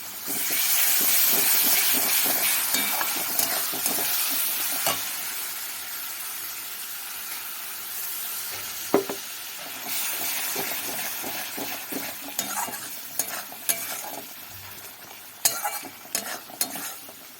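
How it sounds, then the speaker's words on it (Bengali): Cumin and coriander powder masala fries in oil for rohu fish kalia, starting as a loud close sizzle that settles lower while a spatula scrapes and knocks the pan at intervals; no speech. "এবারে আস্তে আস্তে কম আছে ভাজা ভাজা করব মশলাটা যতক্ষণ না পর্যন্ত মশলা থেকে তেল ছাড়ে"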